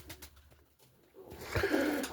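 Birmingham roller pigeons coo softly in a loft of stock birds, a quiet low murmur that swells into a fuller, louder coo near the end.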